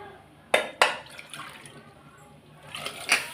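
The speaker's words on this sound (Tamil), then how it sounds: "இந்த குக்கரை கொஞ்சம் கழுவிக்கிடலாம்." Water splashes as a pressure cooker is washed while bottle gourd sambar is cooked, two sharp splashes near the start and more sloshing near the end, close and moderately loud.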